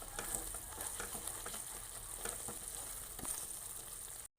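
Kerala halwa cooking with coconut oil in a pan is stirred, a soft continuous sizzle with scraping stirs, close and quiet, cutting out briefly at the very end.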